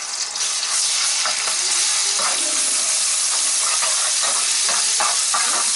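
Garlic fries in hot oil for Alexandrian-style liver: a loud, steady, close sizzle and hiss that runs without a break, with faint clinks and stirring sounds beneath it.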